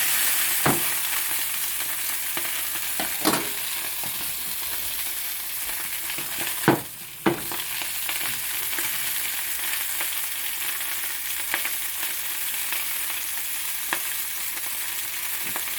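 Sausages brown in oil in a pan, giving a loud continuous sizzle and crackle with occasional stirring clatters and a brief dip partway through; nobody speaks.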